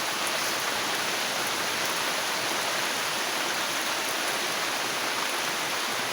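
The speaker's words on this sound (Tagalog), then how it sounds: "sisilong muna kami dito kasi lakas pa yung ulan" Heavy rain falling at night, a steady dense hiss of downpour on surfaces, continuous and even throughout with no voices.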